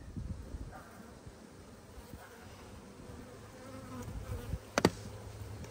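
Honeybees drone at an open frame of worker comb during a hive inspection, a low steady buzz lying quietly under the whole stretch with a brief brighter flare near the end.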